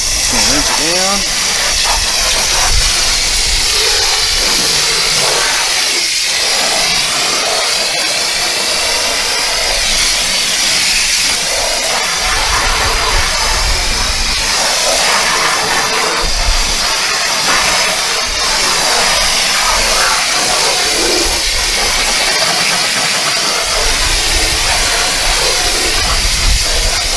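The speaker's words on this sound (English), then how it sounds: "Just gonna rinse it down." Water spraying hard over a car during a rinse after foam washing with bug and smudge remover, a loud, steady hiss that runs on without pause.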